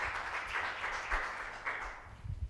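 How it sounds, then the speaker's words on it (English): Applause from a conference audience at a mental health event, a soft, steady patter of clapping at moderate distance that thins out toward the end, with a few low thumps near the close. "May we clap our hands to celebrate him."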